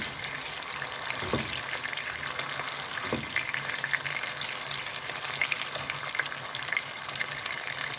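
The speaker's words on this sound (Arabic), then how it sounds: "متبلة حبة بانيه من امبارح، احمرهم." Breaded chicken cutlets, marinated overnight, fry in a pan with a steady close sizzle and crackle throughout, plus a couple of brief clatters from turning the pieces.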